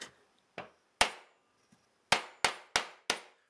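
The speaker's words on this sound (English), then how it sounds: "I'm not even going to nip the tangs on these. I'm just going to bosh them in" Sharp hammer strikes drive guitar frets into fret slots, seven crisp close-up taps in uneven bursts with quiet gaps, the last four coming in quick succession.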